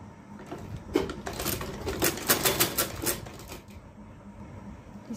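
A sewing machine stitches the shoulder seams of a shirt, its needle rattling in a close, rapid mechanical run that builds in short bursts and then slows to a softer whir, with no one talking.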